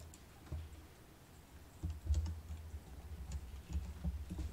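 Brisk computer keyboard keystrokes while code is pasted with Ctrl+V, a few scattered clicks followed by a tighter cluster of taps, close and alone without any talk.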